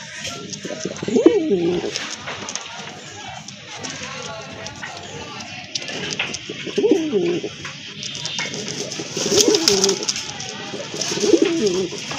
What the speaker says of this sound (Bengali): আরেক জোড়া কবুতর, বড় পায়রা, অনেক বড় সাইজের কবুতর